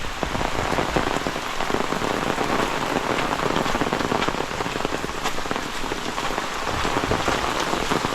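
Heavy monsoon rain pours down in a Konkan village, a dense, steady roar of drops drumming on surfaces, loud and unbroken throughout.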